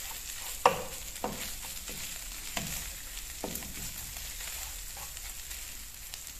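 Semolina roasting in a pan with milk, a steady close sizzle broken by a few sharp scrapes of the stirring spoon against the pan, with no talking.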